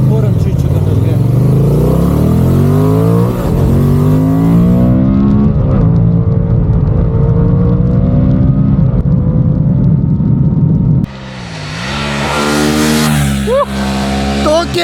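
A Honda Transalp motorcycle engine revs loudly up and down nearby, rising and falling in pitch, then drops away abruptly and a more distant engine sound follows.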